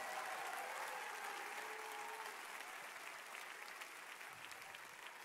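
A church congregation claps hands in praise during a worship service, a soft, distant, continuous patter of applause that slowly eases in volume.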